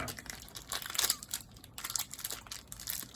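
A knife cutting open a plastic package of cheese, with close crinkling and tearing of the wrapping in irregular bursts, fairly quiet and without talk.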